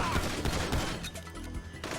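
Gunfire in the GTA 5 video game, with dense overlapping shots and crashes forming a loud, continuous barrage for two seconds.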